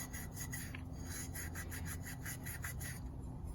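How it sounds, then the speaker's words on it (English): A red Scotch-Brite pad scuffs a metal plate on a C10 truck, dulling its sheen for new paint: a steady, close rasping rub in quick repeated strokes with no talking. "got a red Scotch-Brite pad and we're scuffing up this plate to get all the sheen off it"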